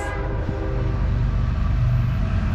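A CSX manifest freight train of 148 cars rolls by at 48 mph in Piscataway, a loud, close, continuous rumble of wheels and cars with a tonal horn-like hum layered in.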